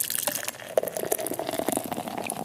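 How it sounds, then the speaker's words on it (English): A pint of Boddingtons beer is poured, giving a steady, close liquid splashing and fizzing rush that runs for a couple of seconds without any talking. "The ghost of Mark pouring another Boddington's."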